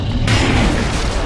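Dense, continuous booming gunfire from Gears of War 3 in Judgment mode, a loud sustained barrage of shots and bursts with no gaps.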